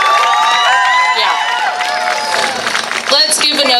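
Crowd at a Pride celebration in Monterey Peninsula, California, cheering and applauding loudly, with high whoops and shouts over steady clapping, close and continuous, swelling again near the end.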